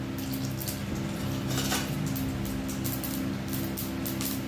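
Mustard seeds dropped into hot oil on a gas stove for tempering give off a steady, dense sizzle and crackle that holds evenly throughout, with no voices.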